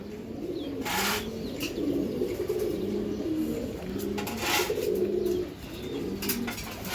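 Iranian highflyer pigeons coo in a loft, soft repeated low throaty calls overlapping close by, with a few sharper bursts and faint wing flutters mixed in.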